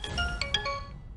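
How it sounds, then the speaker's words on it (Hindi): A short electronic phone ringtone chimes a quick melodic phrase, then fades out, fairly quiet and without any talking. "करण सर का फोन"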